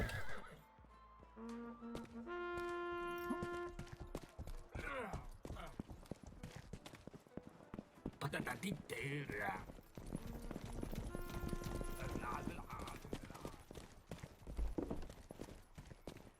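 A horse in the medieval video game Rustler, lamed after a chase: hooves clip-clop in uneven runs and a whinny rings out, with music tones and bursts of action between them, while someone talks over the game.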